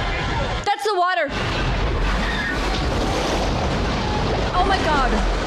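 Rushing, churning water in the plane crash from the movie Cast Away, a loud, steady roar of surf and water noise, briefly broken by a short cutout and a voice early on.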